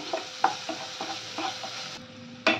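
Spice masala sizzles in oil for doi begun, close and fairly quiet, with a constant fry hiss broken by several sharp spatula scrapes and knocks against the pan.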